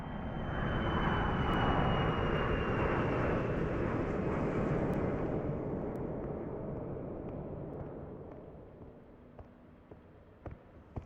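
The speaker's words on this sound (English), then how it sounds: "At least until the next plane comes along." A loud airplane roars overhead, its broad engine rumble swelling early and then gradually fading into the distance, leaving a faint hum and a few small clicks.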